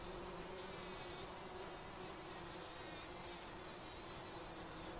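Steady, dense buzzing of bees, continuous and fairly close, with a constant hum running through the whole stretch and no voices.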